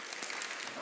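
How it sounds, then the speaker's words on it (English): A large orientation-week audience gives a quick, faint burst of scattered clapping, a couple of hand claps smeared across many people in under a second. "Clap twice if you can hear me."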